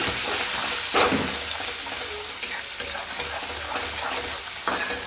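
Spices, salt, coriander-cumin powder, red chili powder and turmeric get stirred into a hot pan, a loud continuous sizzle with occasional scraping pushes of a spoon, close up with no talking.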